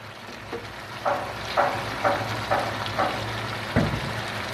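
Onion petals, an onion cut into quarters and separated, hit a hot pan for chicken dopiaza, giving a loud steady sizzle with several sharp crackling bursts as pieces drop in and are stirred.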